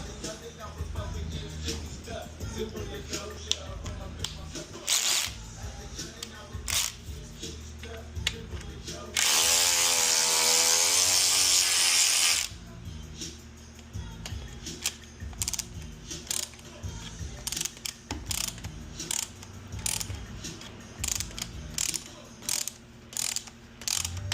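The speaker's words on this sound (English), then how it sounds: "And we're going to switch to power tools." A ratcheting power tool whirs in a steady loud burst, loosening breather bolts during an S&S Stinger air cleaner install, surrounded by many sharp mechanical clicks and clacks of tools and metal nearby.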